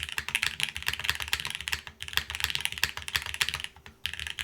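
Rapid, steady typing on a KBD8x MKIII mechanical keyboard with a half plate and gasket mount, close up: dense clacky keystrokes with a few short pauses, no voices.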